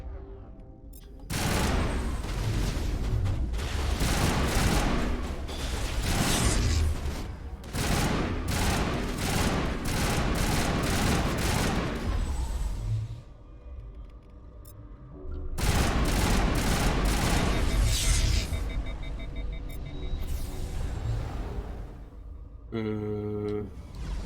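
Dense gunfire in the sci-fi shooter game Mass Effect Legendary Edition, rapid bursts of automatic weapons in long loud volleys, pausing briefly midway before another sustained barrage, ending with sharp electronic blips.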